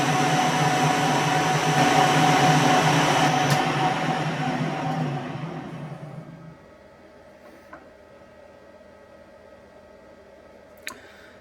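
A metal lathe turning while cutting a thread, a steady mechanical whir with a tonal hum that runs for several seconds, then winds down and stops, leaving quiet with a couple of faint clicks.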